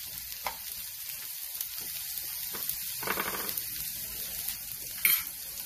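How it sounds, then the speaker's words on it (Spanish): Onion and chile frying in a pan, a soft continuous sizzle with occasional crackling bursts and a stirring clatter, close but fairly quiet. "Mientras está guisando la cebolla y el chile"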